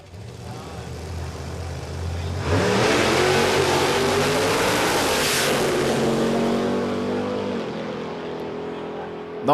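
A drag racing car roaring down the strip at Warwick Dragway, a loud engine blast surging up and holding at high revs for several seconds before easing off, with a crowd murmuring around it.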